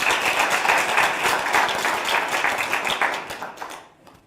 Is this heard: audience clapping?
yes